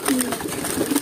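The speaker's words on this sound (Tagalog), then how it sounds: "ganyan kahitik kumain yung mga ibon natin" Racing pigeons feeding in baskets on a truck coo softly and flutter in a brief, busy burst of close bird sounds.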